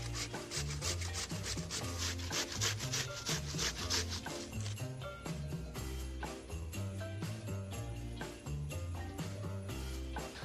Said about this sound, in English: Now we are going to grate. I have a box grater. We're going to be using the coarse holes.